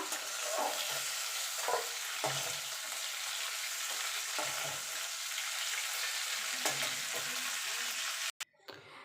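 Bottle gourd leaves sizzle in a frying pan with a continuous hiss and occasional stirring scrapes, ending in a brief knock and handling noise near the end. No one speaks.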